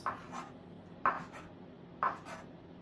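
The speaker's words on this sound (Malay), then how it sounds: "Okey, kita potong nipis-nipis." Petai beans are sliced thinly with a knife on a cutting board: three crisp, evenly spaced cuts about a second apart, each followed by a softer scrape, close and fairly quiet in an otherwise calm kitchen.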